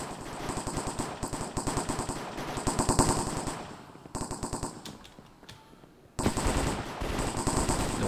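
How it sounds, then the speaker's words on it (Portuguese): Rapid bursts of automatic gunfire in the Minecraft mini-game MineStrike, loud and close, rattling in long volleys with a brief lull before firing resumes. "Nossa, já começou os tiros já"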